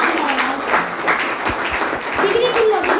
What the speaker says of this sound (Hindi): एक बार इनके लिए भी ताली बजा दो